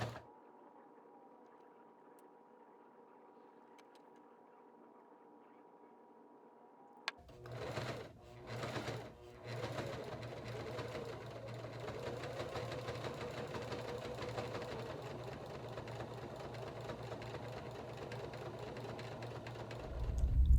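A powerful sewing machine stitches leather for a moccasin. A quiet hum comes first, then a few short bursts of stitching, then a loud, steady run of fast stitching, close by.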